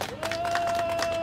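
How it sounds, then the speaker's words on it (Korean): Audience applause welcoming a candidate at an outdoor Seoul election rally: steady, dense clapping from a crowd, fairly loud and continuous, with a thin sustained tone running beneath it. "뜨거운 박수로 맞이해 주시면 감사하겠습니다"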